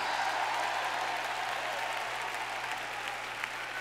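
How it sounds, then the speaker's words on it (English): Congregation clapping at a church camp meeting, a dense continuous wash of hands that holds steady for several seconds before easing slightly, with a low steady hum beneath and no talk. "Come on, give the Lord a hand clap."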